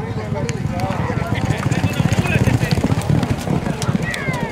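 Racehorses gallop in a race, a dense rapid drumming of hooves that swells and stays loud throughout, with voices mixed in over the pounding.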